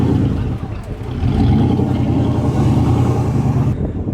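A supercharged V8 drift car at a Rosarito drift event holds a loud, sustained engine roar that swells and revs near the listener, then drops off abruptly at the end.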